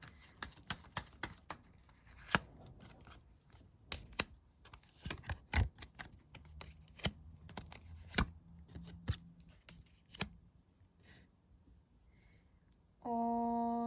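Tarot cards shuffled and drawn up close: a run of quick crisp flicks and taps, then softer scattered card handling that fades out, ending on a short electronic tone.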